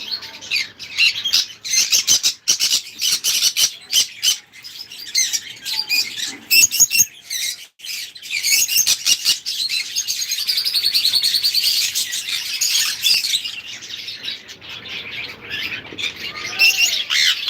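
Green cheek conure parrots at a bird farm give loud, rapid chirps and squawks in overlapping bursts, continuous throughout with several birds calling near and far.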